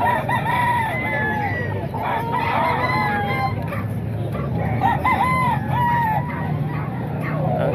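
Roosters at a chicken market in Calumpit crow over and over, with several long cock-a-doodle-doo calls overlapping amid constant clucking and a busy background din.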